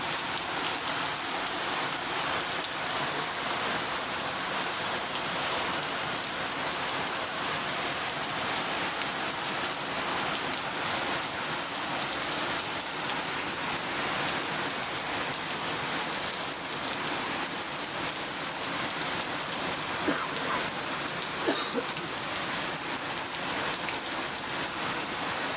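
Heavy rain pouring without pause, a dense steady hiss of drops striking surfaces that holds at the same loud level throughout, with occasional closer drips and no voices.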